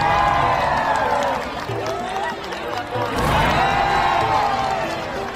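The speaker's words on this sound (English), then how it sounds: "Each fireball is greeted with loud cheers and wild clapping." A large crowd on the banks of the Mekong River cheers and claps loudly at glowing fireballs rising from the water, in two swelling waves of roaring voices and applause.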